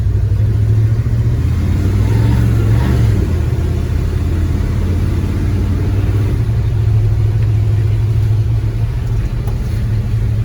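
A barn-find Dodge D100 pickup, running again after 25 years, revs hard while attempting a burnout: a loud, close, sustained engine rumble that swells in one rev around the early seconds, then holds steady with no talk.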